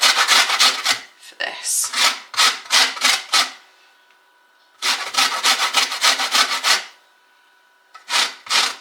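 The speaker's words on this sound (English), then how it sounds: "I'm probably just going to zest 1 lemon" A lemon is zested on a grater with rapid, loud, close scraping strokes in quick bursts separated by pauses. A brief bit of talk comes near the end.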